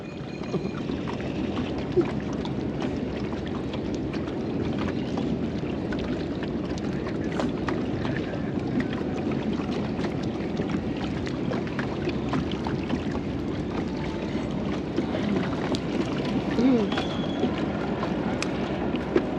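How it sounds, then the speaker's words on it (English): Continuous rumble of a boat motoring across water near Poneloya, Nicaragua, with wind buffeting and faint splashing throughout, steady and fairly loud. "that's the boat ride back from the Surfing Turtle Lodge here in Poneloya"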